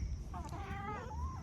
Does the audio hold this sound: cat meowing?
yes